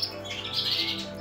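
Caged breeding birds chirp in a quick, high, bright twitter that is fairly close and steady for a brief moment, with no voices.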